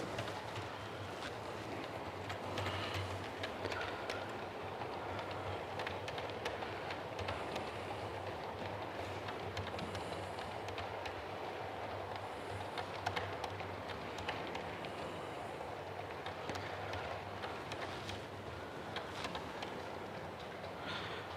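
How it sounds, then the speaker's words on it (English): A model railway train runs past on its track with a soft, continuous rumble and faint rhythmic clicking from the rails. The sound stays low and steady throughout, with no talk. "just wait for this track, this train to go past"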